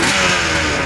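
A 1977 Yamaha RD400 motorcycle engine revs in cold weather, a loud, steady, buzzing two-stroke drone held close up for under a second with no pauses.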